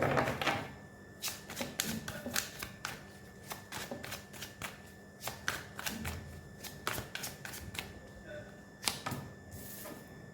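Tarot cards shuffled by hand during a card reading, a run of crisp riffling flicks and soft slaps repeating unevenly, close and fairly quiet, with no voice over it.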